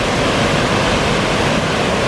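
Water pours over a weir and through a culvert at an old mill site in Oughtibridge, a loud, continuous rushing wash that stays even throughout the short clip.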